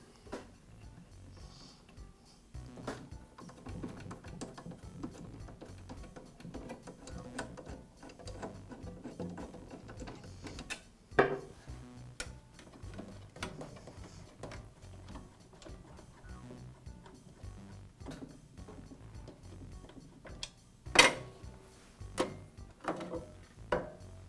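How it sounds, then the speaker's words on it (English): Dust shroud being taken off a Makita electric planer, faint small clicks, taps and plastic-on-metal knocks scattered through a quiet workshop, with a couple of sharper snaps near the middle and the end. "I'll begin by removing the dust shroud."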